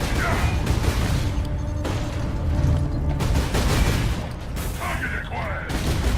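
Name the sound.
gunfire in Warhammer 40,000: Space Marine video game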